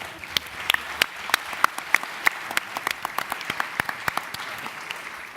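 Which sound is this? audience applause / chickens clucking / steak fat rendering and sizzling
audience applause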